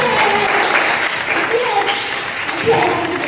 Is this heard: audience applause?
yes